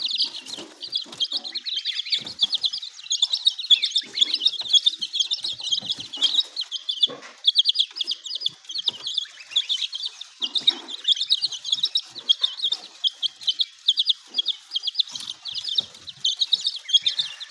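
Young Wyandotte chickens and goose chicks chirp in a dense, continuous chorus of high peeps, close and steady throughout, with no talking.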